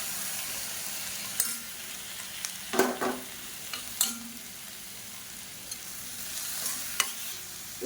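Chopped onion and medium tomatoes sauté in a pan for chutney, with a steady sizzle broken by clear scraping stirs from a spoon, close and fairly loud, with no voices.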